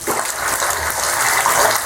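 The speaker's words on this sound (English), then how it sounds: "now let's turn the cold on" Cold water gushes steadily from a bathroom tap after a repair, a loud, close, continuous rushing flow with no break and no talking.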